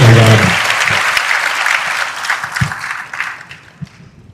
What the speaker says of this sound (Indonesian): Tepuk tangan dulu buat saya yang tadi sudah terlibat memberikan jawaban.